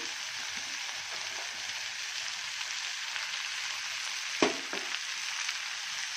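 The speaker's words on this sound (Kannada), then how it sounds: "ಇದನ್ನೆಲ್ಲ ಚೆನ್ನಾಗಿ ಫ್ರೈ ಮಾಡ್ಕೊಳ್ಳೋಣ" Byadgi chillies, grated coconut and cashews fry in a pan with a steady, soft sizzle throughout, broken by one brief louder scrape or stir near the end; no voices.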